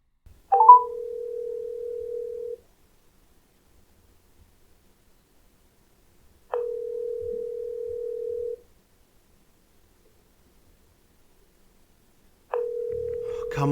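Phone ringback tone during an outgoing call, three even tone bursts about two seconds long, spaced by roughly four seconds of silence, clear and alone.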